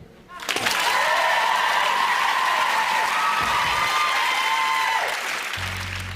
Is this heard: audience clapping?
yes